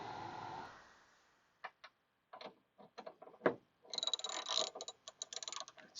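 A hand ratchet working against a tight bolt in a garage, sparse clicks and short ratcheting bursts that grow denser toward the end, close and fairly quiet.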